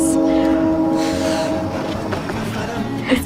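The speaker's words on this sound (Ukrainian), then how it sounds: "Цей паскудний потяг випробовує моє терпіння." A train passes with a loud, continuous rumble and rattle of rail cars, and a sustained horn tone runs through the whole clip.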